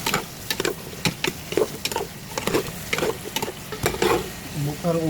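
Karekare stew ingredients stirred in a sizzling pan, quick close scraping strokes of a utensil in a busy, irregular rhythm over steady frying, loud and near throughout.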